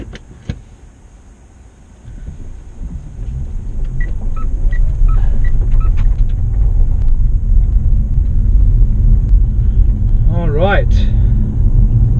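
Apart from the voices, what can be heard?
Mitsubishi Outlander PHEV driving at 60 km/h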